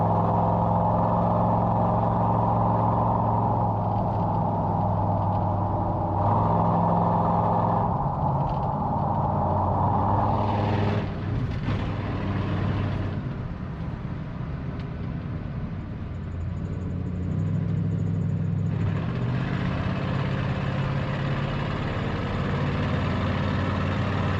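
Expensive car being driven, its engine running as a steady low drone with gear-like shifts in tone and occasional surges, continuous throughout.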